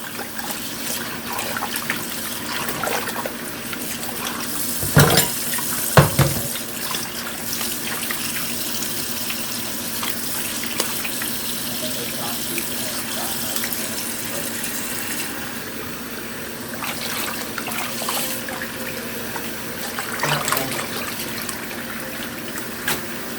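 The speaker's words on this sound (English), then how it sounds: "Now I'm washing it with hot water." Tap water runs steadily while pork meat is rinsed for Haitian griot, a constant near splashing flow with a couple of brief louder clatters around the middle and no talking.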